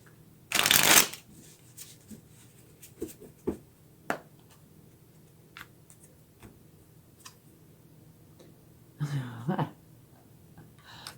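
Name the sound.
tarot cards being shuffled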